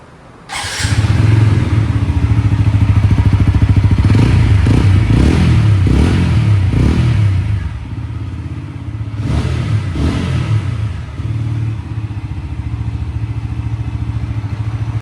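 A serviced TVS Apache 4V fuel-injected motorcycle starts and idles close up, then revs in several throaty bursts before settling back to a steady, slightly clattery idle with no talk.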